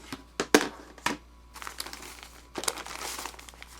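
Plastic Ziploc bags holding garden seeds for tomatoes, peppers, herbs, eggplant and Swiss chard crinkle close by as they are handled, in several short bursts of rustling separated by brief pauses, with no talk.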